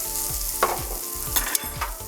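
Garlic and green onion are stirred in a hot pan: a bright, constant sizzle with repeated low, rhythmic thuds and scrapes from the spatula, close up.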